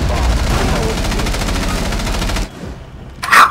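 Rapid automatic fire from Rainbow Six Siege emptying a full magazine, loud and close, a rattling stream of shots that stops abruptly, followed by a brief quieter pause and a short sharp sound.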